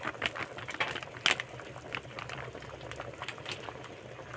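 A pot of mung bean soup with chicken and fried fish bubbling at a steady boil, with soft irregular pops and gurgles over a continuous low simmering hiss, close by.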